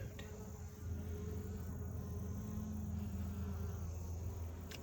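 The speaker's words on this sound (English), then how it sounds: "I'm being checked out on my finger over here by a bee who has now landed on my finger." A bee buzzes close by as it hovers near a person's finger and lands on it, a steady droning hum that runs unbroken against quiet outdoor air.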